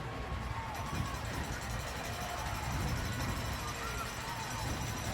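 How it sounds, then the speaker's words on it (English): Crowd at a Cougar high school football game cheering for their defense, a broad, steady stadium roar heard far off beneath a play-by-play commentator's voice. "the Cougar crowd coming alive here for their defense"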